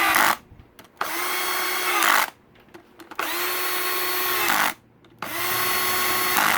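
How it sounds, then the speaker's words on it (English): A Black & Decker cordless drill tightens bolts on a KTM 450SXF clutch dampener in three separate bursts, each a steady high whine lasting about a second or more, with brief pauses between. "I'm going to use this cordless cordless drill here just to do the twisting for me."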